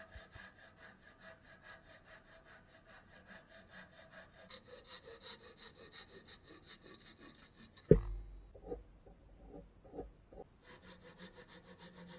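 A hand saw cuts 12.5-inch sections from a wooden 2x4 with quiet, steady back-and-forth rasping strokes, then a sharp knock and a few faint clunks as the piece drops.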